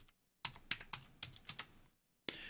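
Typing a gdb command on a computer keyboard: about half a dozen crisp, close key clicks in an uneven run, then a pause and one final keystroke.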